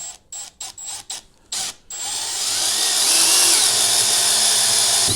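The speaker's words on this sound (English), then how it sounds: "let's just keep it on drill mode" A Milwaukee M12 4-in-1 cordless drill in short stuttering bursts, then one long steady whine as it drives a screw in, close and loud.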